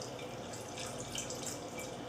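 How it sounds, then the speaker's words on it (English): Castle Rock red wine, a Cabernet or Pinot Noir, poured from the bottle into a glass, giving a steady close trickling and splashing stream with no talk. "Alright, I'm going to pour some."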